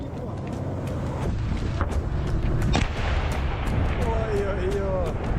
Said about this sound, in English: Fire one more shell and roll back.